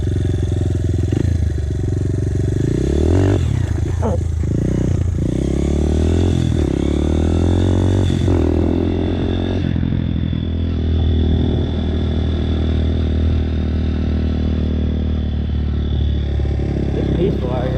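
Dirt bike engine running steadily while riding, loud and close, with revs climbing and dropping and some clattering, then settling into a smoother drone.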